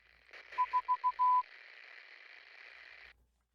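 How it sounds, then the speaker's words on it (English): Morse code beeps in a video game: four short even tones and then a longer one, clean and fairly loud, over a faint electronic hum that cuts off abruptly. "I don't want to do Morse code."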